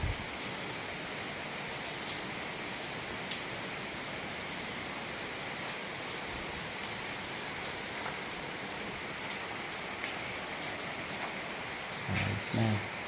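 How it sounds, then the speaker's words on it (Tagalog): Steady rain falls through the whole stretch during an overnight break on the road from Lipa to Calaca, a dense even hiss, with a short louder patter near the end. "Hindi na tumigil ang ulan."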